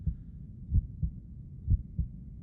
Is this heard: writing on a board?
no